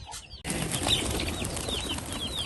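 Shirazi pigeons flapping their wings close by while being fed grain, a dense, continuous flutter that starts abruptly and carries on steadily.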